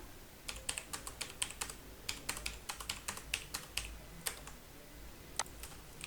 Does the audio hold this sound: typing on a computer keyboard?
yes